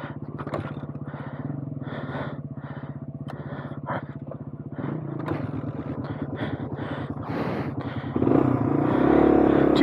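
A Suzuki DR350 dirt bike runs hot on single track, its engine droning steadily and close with a throttle surge near the end, after being kick-started with two kicks.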